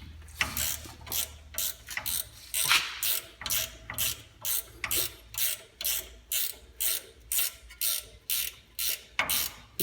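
A hand ratchet loosens bolts on a Crown Vic strut during a coilover install on an F100, a steady run of loud, close clicking bursts, one per swing, repeating in an even rhythm.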